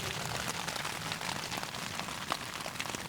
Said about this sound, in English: Get back out when it stops raining.